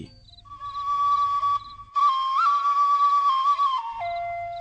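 A breathy Thai khlui bamboo flute plays a sustained melody with a few pitch bends and steps, clear and close, with no talking.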